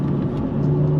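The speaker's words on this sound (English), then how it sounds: "You hear that downshift right there." A 2019 BMW M4 coupe engine downshifting on the road, a loud steady rumble with a low engine tone rising slightly in pitch, heard close with no voices.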